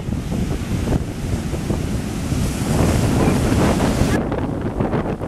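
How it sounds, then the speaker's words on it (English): Strong Hurricane Sandy wind roars across the microphone over a steady wash of ocean surf, loud and continuous throughout. "You can hear the winds"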